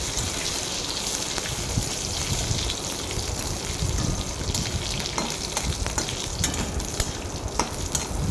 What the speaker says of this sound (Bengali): গোটা কাজুগুলোকে 3 থেকে 4 মিনিট ভালো মতন নাড়াচাড়া করে নামিয়ে নিতে হবে।